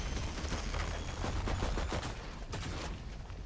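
Gunfire in the video game Valorant plays as a dense, continuous burst of rapid shots under steady game ambience.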